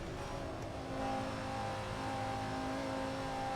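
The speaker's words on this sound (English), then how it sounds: "You just want to hear the engine rev." A race car engine in a sim racing game at Spa-Francorchamps holds a steady, loud, dense drone with slight rises in pitch, continuous throughout with no talking.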